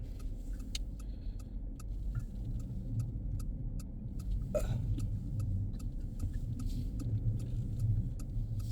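Heavy trucks rolling along a snowy, plowed highway near the US border in Manitoba, a steady low road rumble with tire hiss throughout, swelling slightly as one passes around the middle.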